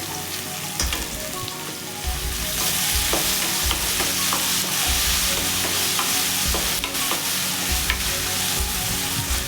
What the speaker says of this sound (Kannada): ಟೊಮೊಟೊ ಮೆತ್ತಗೆ ತಕ್ಕನ ಫ್ರೈ ಮಾಡ್ಕೋಬೇಕು